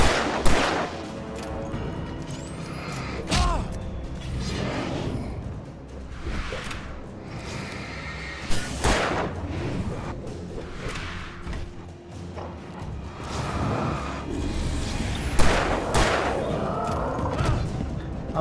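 Gunshots from trick shooting in the Alan Wake video game, a series of loud, sharp reports spaced a few seconds apart with booming tails between them.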